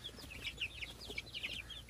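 Chickens in a large backyard coop keep up a faint, steady run of soft clucks and chirpy calls, many birds overlapping with no pauses.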